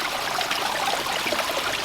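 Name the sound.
water flowing down a backyard pond stream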